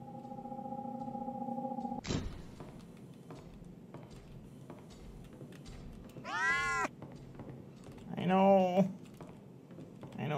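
A house cat meows twice, two drawn-out rising and falling cries a couple of seconds apart, fairly close, over computer keyboard typing and low room noise.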